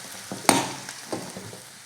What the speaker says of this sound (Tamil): பக்கோடாவை சேர்த்ததுக்கு அப்புறமா சும்மா லைட்டாக இந்த வெங்காயத்தோடு சேர்த்து கலந்து கொடுத்துக்கோங்க